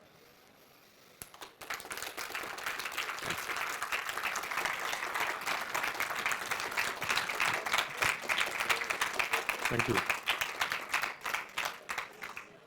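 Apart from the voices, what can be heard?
audience applause after a conference talk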